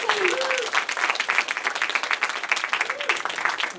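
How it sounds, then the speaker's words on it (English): A crowd gives a warm round of applause for a World War II veteran's family, steady and full-bodied throughout, with faint voices calling out over the clapping. "Please give the Sombrero family a warm aloha and round of applause."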